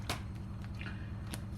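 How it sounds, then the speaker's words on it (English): A deck of tarot cards being shuffled by hand, quiet riffling with a couple of sharp card-snapping bursts over a faint low hum. "then I will shuffle the rest of the deck"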